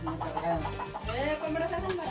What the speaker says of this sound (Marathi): मोठा कोंबडा पण